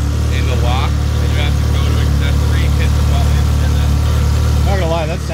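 A Ferrari engine idles steadily with a constant mid-low hum, while people talk over it and a few higher tonal warbles come and go.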